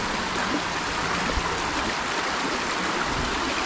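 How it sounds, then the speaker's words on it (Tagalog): Water flowing along a stream channel built up by the barangay, a constant rushing, gurgling wash that stays steady and fairly loud from start to end, with no talking. "So yung tubig yan, nakakaagos siya pa ron."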